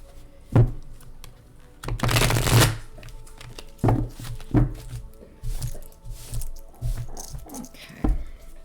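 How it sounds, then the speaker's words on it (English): Tarot cards being shuffled by hand, giving several separate bursts of riffling and soft slapping, close and fairly loud, with pauses between them and no speech. "Okay, I'm shuffling the tarot."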